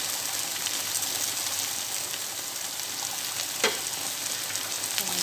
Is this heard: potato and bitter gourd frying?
yes